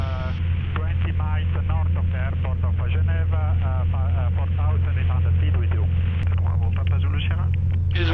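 A Piper PA28 light aircraft on a VFR flight around Geneva, its engine a steady low drone throughout while a pilot talks over it in French, close and constant.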